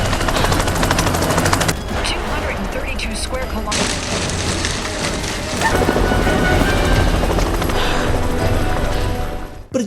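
Loud, dense roar of a helicopter mixed with heavy action noise and bursts, continuous and close throughout.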